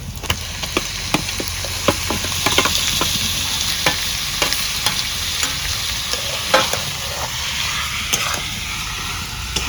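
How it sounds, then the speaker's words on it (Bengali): Chicken and taro frying in a pan while being stirred, a constant hot sizzle broken by repeated scraping and clacking strokes of the stirring utensil. "এখন ভালো করে নাড়াচাড়া করে ডাইটা দিই"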